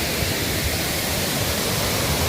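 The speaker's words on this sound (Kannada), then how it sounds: "ಇದು ನಮ್ಮ ಮೂರನೇ ಫಾಲ್ಸು" A waterfall in Coorg roars as a steady, loud rush of falling water, close by and unbroken, with no voices.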